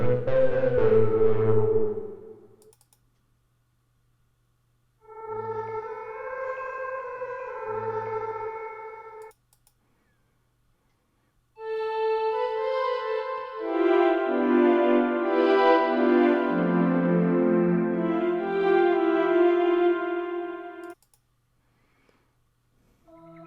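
Ambient Tape, a synth patch in the iZotope Iris 2 plugin, plays sustained, hazy tones in separate phrases with gaps between them, later swelling into a fuller, layered chord, heard alone without voices.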